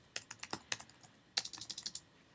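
Quick bursts of typing on a computer keyboard, two runs of close, crisp key taps with a brief pause between them, and no voices.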